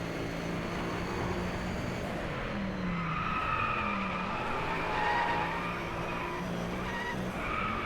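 A race car in Driveclub spins out through a sharp turn, tires skidding and squealing over a steady engine drone that stays loud from start to finish, with no talking.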